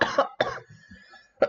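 Three harsh coughs in quick succession, close by, with a brief raspy breath between them.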